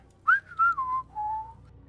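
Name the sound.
whistling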